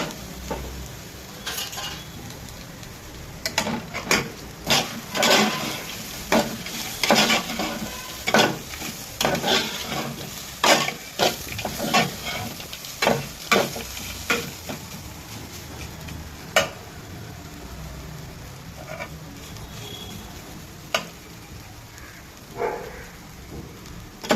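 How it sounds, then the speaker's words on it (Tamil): Coconut masala for country chicken kurma is stirred in a pan, with a steady soft sizzle and frequent scraping, clinking spoon strokes in irregular bursts, close and alone without talk. "தேங்காய் ரொம்ப வதக்க வேண்டாம்."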